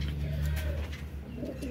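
A young adult Teddy pigeon coos in a low, continuous murmur, close and fairly loud, with a steady hum behind it.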